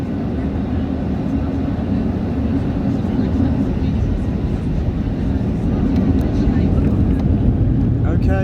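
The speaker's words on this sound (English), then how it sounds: "So we're speeding up on here on the runway to take off." Ryanair Boeing 737-8AS with winglets at full power on its takeoff roll at Stansted, a loud, steady, broadband engine roar heard from inside the cabin that builds slightly as the jet speeds up.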